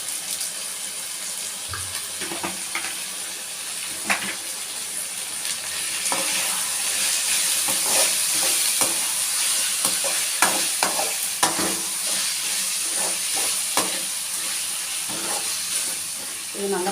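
Chopped tomatoes and chicken sauté in a pan with coarse salt for a chicken gravy, a soft steady sizzle broken by repeated scraping stirs and clinks of the spoon against the pan.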